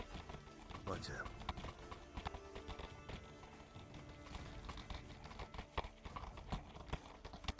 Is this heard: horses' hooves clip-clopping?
yes